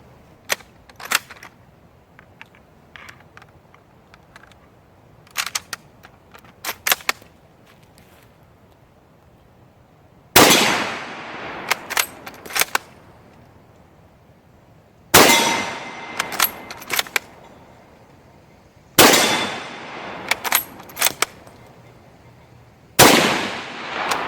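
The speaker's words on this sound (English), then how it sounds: "load up some more rounds and see if I can ding that target some more" A Kar98AZ bolt-action rifle fires several loud, sharply ringing shots at a steel target outdoors, spaced a few seconds apart, with clicks of bolt work and handling in between.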